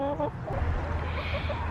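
Chickens in a coop cluck softly and murmur close by, a steady low chatter with a few higher calls at the start.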